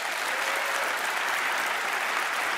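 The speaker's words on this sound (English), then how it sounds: "Big round of applause" Steady, dense applause from a studio audience at a magic show, sustained and even throughout with no speech over it.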